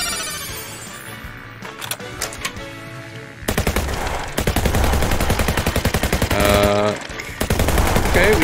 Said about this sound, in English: Okay, we got guns.